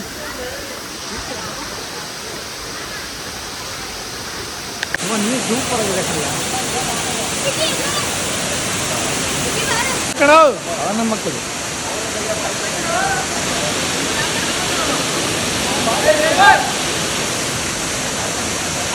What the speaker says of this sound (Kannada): ಹಿರೇಮನೆ ಫಾಲ್ಸು.